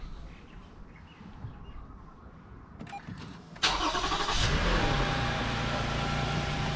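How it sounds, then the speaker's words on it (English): A 2019 Toyota Sienna engine cranks and catches, jumping to a steady, loud idle after a few seconds of quiet outdoor background. "So I'm going to start up the vehicle."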